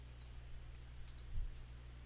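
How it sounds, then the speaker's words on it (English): Computer mouse clicks during photo editing: a few faint, sharp, isolated clicks spaced irregularly over two seconds, close to the microphone, over a low steady hum. "I'm clicking preview here just so you could see the before and after."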